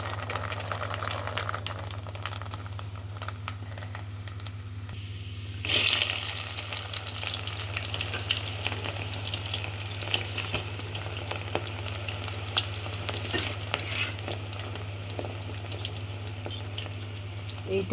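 Black cumin seeds, cloves, fenugreek and bay leaves sizzle in hot hair oil, a steady crackling fry that jumps louder near six seconds as more spices drop in, then continues evenly with a constant low hum beneath.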